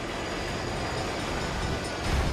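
A train rumbles past in the driving game The Crew, a dense, steady roar filling the whole moment at close range, with a heavier low thump near the end and no talking.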